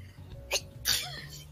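A single short sneeze in a noisy room, with a second burst following a moment later among chatter and people talking, at a D&D gaming session with friends.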